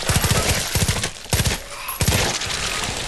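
Rapid automatic gunfire from a weapon in Far Cry 5 zombies mode, loud close bursts of rattling shots with brief gaps between volleys.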